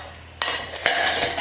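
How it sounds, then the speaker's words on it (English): Honey and wet ingredients for a corn bread cake stirred in a bowl, giving a close scrape of utensil against the dish followed by a couple of brief clinks, with no voices. "mix the wet ingredients into the dry ingredients. And this is really more like a stir."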